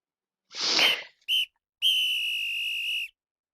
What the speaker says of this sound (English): You've heard the whistle